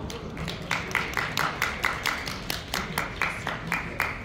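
A conference audience at a security event claps to welcome a presenter, a fairly even run of crisp handclaps with a steady rhythm lasting several seconds at moderate level.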